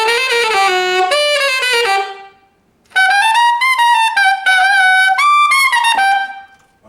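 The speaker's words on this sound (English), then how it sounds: "I want to throw in this diminished thing," A tenor saxophone plays loud, bright chromatic runs, rising into diminished figures and squealing altissimo notes, with a brief pause between two sustained phrases.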